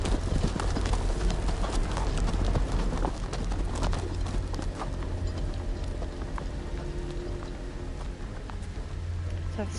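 Rapid clip-clop of galloping horse hooves in the Game of Thrones video game, under a steady rumbling backdrop, with faint voices chattering throughout.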